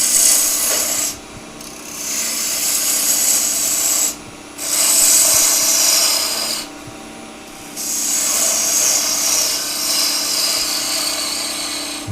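A wooden peg doll head being shaped on a wood lathe with a cutting tool, a loud steady scraping and rasping over the motor's hum, broken by three short pauses as the tool lifts away, close and without talk.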